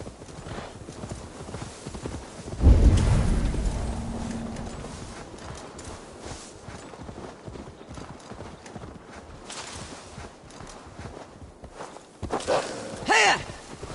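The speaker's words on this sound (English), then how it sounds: "Now to deliver Magni his horse" Horse hooves clip-clopping in Assassin's Creed Valhalla, a steady walking rhythm of close hoofbeats with a heavier thud early on and a brief whinny near the end.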